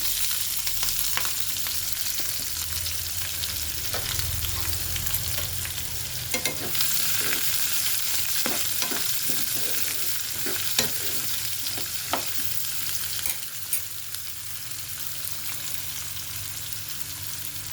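Onions, curry leaves and green chillies frying in a pan for a sweet potato and brinjal tamarind stew, giving a steady close sizzle with scattered stirring scrapes and clicks throughout, no voices.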